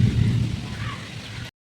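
Heavy rain pours down in a steady broadband roar with a low rumble of thunder underneath, close and dense throughout before cutting off abruptly.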